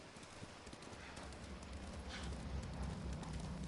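Horses' hooves clip-clop at a steady run in the Ghost of Tsushima video game, a continuous rapid patter with low rumbling ambience beneath and no voices.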